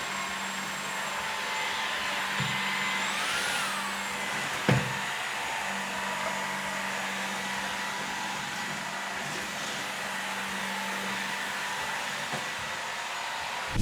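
A Shark Detect Pro cordless stick vacuum cleaner running indoors, giving a steady whirring hum with a high motor whine that briefly rises and falls, plus a few small knocks, with no talking.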